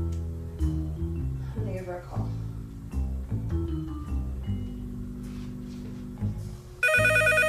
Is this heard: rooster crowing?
no